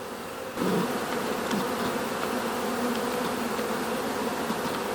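Honeybees buzz steadily around a hive entrance fitted with a bee guard and netting, a dense close swarm drone that swells in abruptly after a quieter opening and holds loud and continuous.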